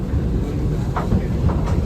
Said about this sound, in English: stay seated until our train comes to a complete stop